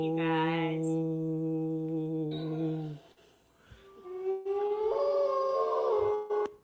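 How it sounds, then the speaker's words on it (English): Several wolves howl together in long, sustained, wavering tones that rise and fall, loud and close, with a brief lull midway before a new chorus of higher howls. "Those are the wolves"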